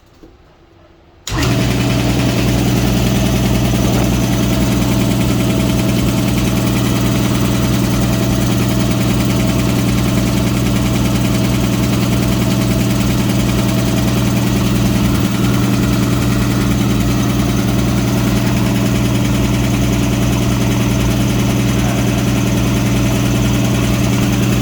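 Homemade compressor engine fires after a brief quiet moment and settles into a steady, loud, chugging run that continues unchanged to the end, with no talking.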